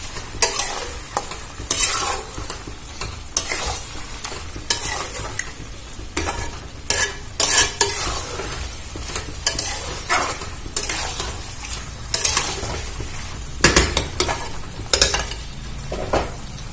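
Fried pointed gourd tossed and mixed in a pan, the spoon scraping and clinking in repeated bursts over a steady sizzle, close and fairly loud, with no voices.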